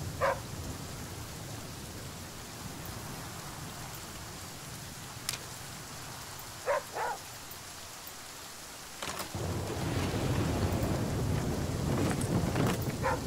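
Rain pattering in The Flame in the Flood, a steady wash that drops away for a moment and then returns heavier, with a few brief sharp cracks over a low rumbling bed.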